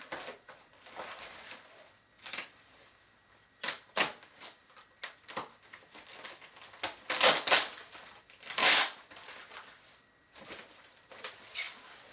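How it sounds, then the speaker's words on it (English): A hobby knife cuts through packing foam and tape, making scattered crisp crackles and scraping bursts, close by and irregular, with quiet gaps between strokes. "Let's cut some of this foam out and tape."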